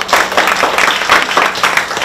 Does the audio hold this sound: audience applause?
yes